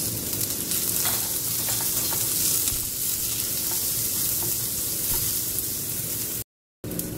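Corn kernels, carrot and baby corn fry in hot oil for tomato rice, a steady loud sizzle with stirring scrapes running throughout, then a brief cut to silence near the end.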